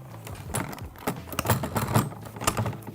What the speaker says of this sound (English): You hear the clicking of the blue flap.